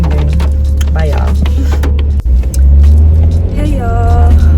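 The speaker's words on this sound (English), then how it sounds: "I'm in the car." Steady engine rumble fills the cabin of a car driving through hard, on-and-off rain, with a continuous low drone and occasional shifts in road noise, near and loud.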